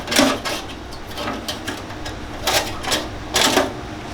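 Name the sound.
Dremel rotary tool with brass wire wheel cleaning burner gasket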